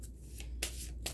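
Astrology cards drawn from a deck during a tarot reading, with soft quiet rustling and three short crisp flicks and slides of cards, close up, with no talking.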